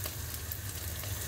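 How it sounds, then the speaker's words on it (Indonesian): White tofu fries in a wok with a steady, quiet, continuous sizzle. A low background rumble runs under it. "Sekarang campurin tahu ya, tahu putih, masukin ke dalam kualinya juga ya."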